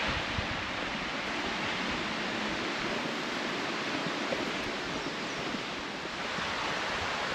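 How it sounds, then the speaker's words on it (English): Water from Lake Superior rushing and splashing like a small waterfall near Copper Harbor, a steady dense hiss that stays even and moderately loud throughout. "Almost sounds like a little waterfall."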